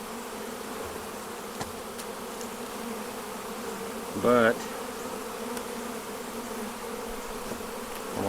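Honey bees buzz steadily around a nuc hive, a close, continuous drone with a brief louder swell midway where a single word is spoken.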